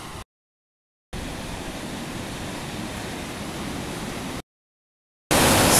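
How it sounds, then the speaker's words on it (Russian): Fast spring floodwater rushes through a swollen ravine, a loud, steady broadband roar that cuts out twice into silence before returning harsher and louder. "удивительно, какая быстрота течи воды!"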